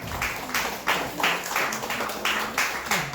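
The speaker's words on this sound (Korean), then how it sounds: "네, 박수로 주시기를" A congregation claps at a 2019 Korean church deaconess ordination ceremony, with rhythmic bursts of applause repeating every fraction of a second and a voice faintly present.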